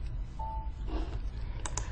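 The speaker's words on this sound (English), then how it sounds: "press enter in your keyboard" Keys on a computer keyboard clatter faintly as someone types, then a couple of firmer key presses land near the end, all over a steady room hum.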